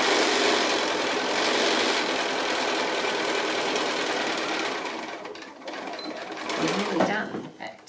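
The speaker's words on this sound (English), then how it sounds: "So I'll go ahead and stitch this side seam just the same as I've done on the other side." A sewing machine runs steadily, stitching the side seam of a fabric glasses case, its fast even whir continuing for several seconds before slowing, then a short final burst; a voice talks over the machine.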